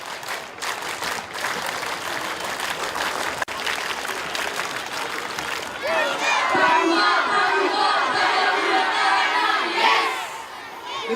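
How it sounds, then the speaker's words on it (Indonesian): A large Scout crowd at a Pramuka anniversary ceremony breaks into rhythmic group clapping and chanting, first with a roaring wash of noise, then with sharp unison claps and shouted calls. "3 kali tepuk pramuka."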